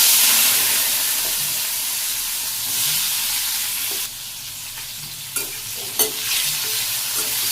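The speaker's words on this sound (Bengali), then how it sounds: "তেলও গরম হয়ে গেছে, আমি কারকল দিয়ে দিই।" Spiny gourd sizzles steadily in hot oil, with occasional scrapes and clacks of stirring breaking through the constant frying hiss.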